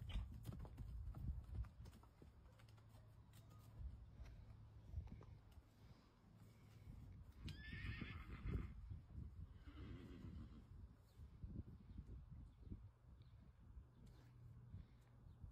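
Horses in a paddock move about with clip-clopping hooves and let out a couple of whinnies, heard at moderate distance over a quiet outdoor background.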